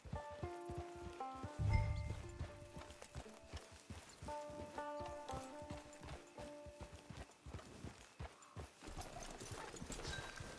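Horse hooves clip-clop steadily in Red Dead Redemption 2, a close, even walking rhythm mixed with game music and a brief low rumble near the start.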